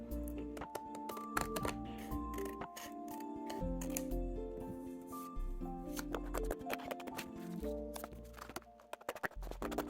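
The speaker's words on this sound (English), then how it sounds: "I normally cut out 2 at a time like this. My scissors aren't that sharp" Dull scissors snip through jewellery display card paper two sheets at a time, a quick series of close, crisp cuts heard over steady background music.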